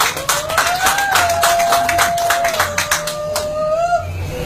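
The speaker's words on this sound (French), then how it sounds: "Applaudissez pour lui." Wedding guests at a civil ceremony before the mayor clap for the groom, scattered sharp claps from a small group over a sustained melodic tone that drifts in pitch.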